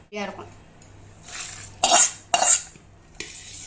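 Cooked rice is stirred with sesame oil in a pan, with a few sharp scraping bursts of a spoon against the metal and a brief voice near the start.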